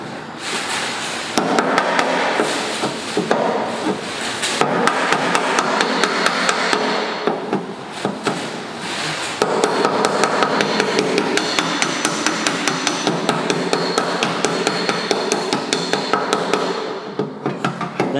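Rapid, steady hammer blows ring out close by on the damaged metal body panel of a wrecked Yukon XL, with dozens of sharp metallic strikes in a continuous rhythm and a brief pause midway.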